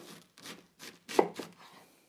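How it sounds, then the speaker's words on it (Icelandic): A knife chops chili and cabbage on a cutting board in a home kitchen, a handful of close, dull thuds in an uneven rhythm, with no voices. "Það er að skera smá chili"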